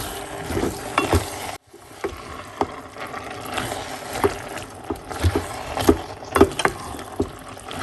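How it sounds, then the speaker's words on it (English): Cabbage stirred in a pot during steaming, a run of scraping and clattering strokes with irregular knocks of the utensil against the pot, fairly close and with no talking. "Just have to stir them up and just kind of wheel it up a little bit."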